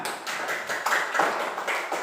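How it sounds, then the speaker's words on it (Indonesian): Hands clap together in a classroom, a steady run of crisp claps from a group of pupils, fairly close and continuous for a couple of seconds with no talking over them. "Ya tepuk tangan."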